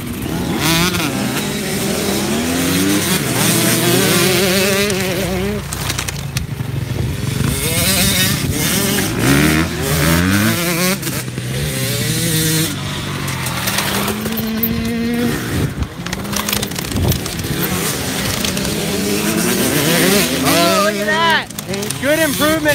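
A 250F motocross bike ridden by a young rider on a practice track during a training session, its four-stroke engine revving and shifting continuously, loud and near, with commentators talking over it throughout.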